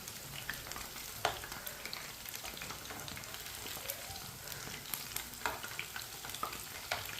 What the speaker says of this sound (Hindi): अब इसे तरह घुमाते फिराते ना अच्छी तरह ब्राउन कर लेंगे दोनों साइडों से